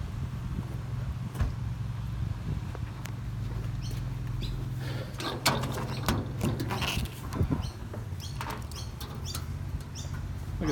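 Bonnet catch being released on a pink Rover Mini Cooper, a series of scattered clicks, creaks and metallic clunks close by, with no talk.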